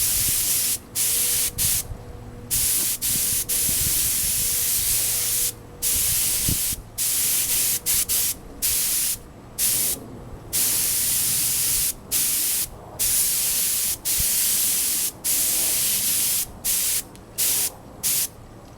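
A spray can lays clear coat on motorcycle mirrors outdoors in a series of loud, close hissing bursts of a second or two each. Short silent gaps separate the bursts, and no one speaks.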